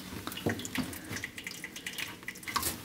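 Tap water runs steadily into a basement sink, a continuous close splashing stream with small spattering drips, no voices over it.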